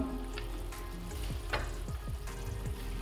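Cornstarch slurry goes into paneer Manchurian in a hot pan, a steady sizzle with bubbling and a few stirring scrapes, close by with no talk.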